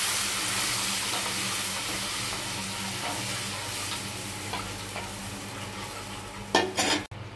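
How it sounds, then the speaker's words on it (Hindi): A pot of kadhi sizzles and bubbles steadily while a spoon stirs it and batter is poured in slowly, with a few sharper scraping clatters near the end. "अब ये बैटर जो बनाई हूँ मैं ये, इसको मैं इसमें धीरे धीरे चलाते हुए, एक बार में नहीं धीरे धीरे चलाते हुए डालते जाना है।"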